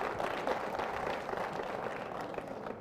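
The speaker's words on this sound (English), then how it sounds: "How about a round of applause, though," Audience applause at a bat mitzvah celebration for the speaker's wife, a steady, even wash of many hands clapping at moderate loudness for a few seconds.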